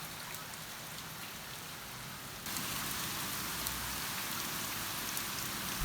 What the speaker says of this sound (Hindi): आजकल जब सुबह सो के उठो ना तो बारिश आपका वेलकम कर रही होती है